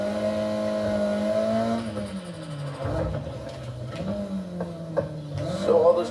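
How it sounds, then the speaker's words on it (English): A car engine in the racing game Need For Speed: Heat (2019) holds a steady drone, then revs up and down in loud, wavering surges. "Let's just get this car to the start line in one piece."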